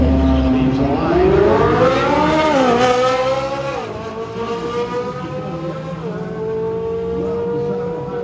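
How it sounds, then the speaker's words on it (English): A Ferrari 458 with an IPE exhaust launches hard off a drag strip line, its engine climbing in a loud rising wail through gear changes, and an announcer talks over it. "Ferrari's sounding. Leaves the line."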